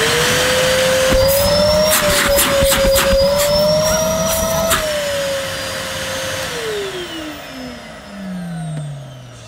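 Numatic NVH200-1 valet vacuum cleaner switching on and running loud and close, its motor whine rising, holding steady, then slowly winding down in pitch near the end, with no one talking.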